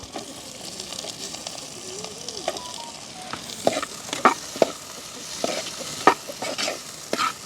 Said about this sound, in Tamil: இப்போ வந்து நாங்கள் முதல் வெங்காயத்தை போடுவோம் வெங்காயமும் கறிமிளகாயும் சேர்த்து போடலாம்